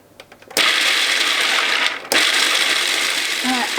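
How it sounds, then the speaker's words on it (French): Peeled hazelnuts ground to powder in a blender, loud whirring motor starting abruptly, stopping briefly and starting again, close and steady without talk. "Vous mixez, vous allez obtenir d'abord une poudre de noisettes"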